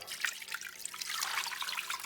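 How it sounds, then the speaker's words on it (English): Beef broth pours into a big pot that already holds brisket, giving a steady close splashing trickle with no talk. "I'm going to add 4 cups of"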